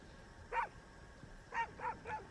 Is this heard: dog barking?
yes